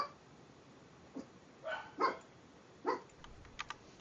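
Dogs barking in the background of a home renovation, a few separate muffled barks and yips spread over several seconds, fairly distant and faint against a steady hiss, with no speech.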